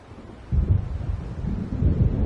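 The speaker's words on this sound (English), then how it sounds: "It seems there's a storm coming." Thunder from an approaching storm in the video game Alan Wake Remastered breaks in after a brief hush as a low, rolling rumble that surges and lingers steadily to the end, with faint wind beneath it.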